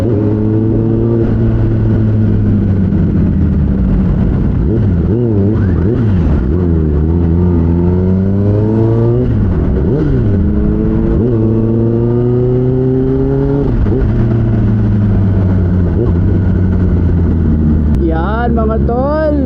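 A Kawasaki ZX-10R sports bike engine revs repeatedly, its pitch sweeping up and down in rising and falling bursts, loud and close, with a voice talking over it.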